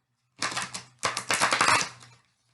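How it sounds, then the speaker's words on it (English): A deck of Doreen Virtue angel tarot cards riffled in two bursts, each a dense run of quick papery flutters and clicks, close and fairly loud with a brief pause between. "And this deck for me is not the easiest to shuffle."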